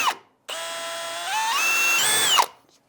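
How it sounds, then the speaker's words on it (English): A power drill with a long bit pre-drilling into a 2x wooden board, one continuous whining run of under two seconds whose pitch rises as it bites, close and loud with quiet before and after. "We're just going to pre-drill a little bit so we don't split that 2x."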